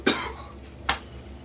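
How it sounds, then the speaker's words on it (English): A person recovering from an illness coughs twice, a sharp close cough followed by a second shorter one, alone and without speech. "Excuse me for that cough"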